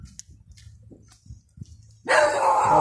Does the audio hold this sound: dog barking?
yes